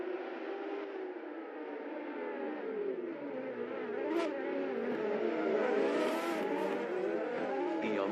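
Race cars in a racing video game howl through a race start, a dense layered roar of several engines revving and shifting, rising and growing louder, with a brief sharp squeal or two, and no one talking over it.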